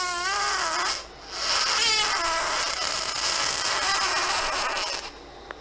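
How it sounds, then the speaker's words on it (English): A recorded fart plays back in two stretches: a short burst, a brief gap, then a long, rough, wavering blast of several seconds before cutting off. "That is the sound of a fart"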